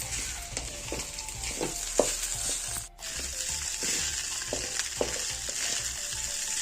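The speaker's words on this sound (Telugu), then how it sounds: "ఇప్పుడు 1 కప్పు రైస్ వేసుకోవాలి. బాగా కలుపుకోవాలి. ఎగ్ మొత్తం కలిసేలా కలుపుకోవాలి." Cooked rice is stirred into fried egg and oil in a hot pan, giving a continuous close sizzle broken by regular scraping spoon strokes and one brief lull, with no talking.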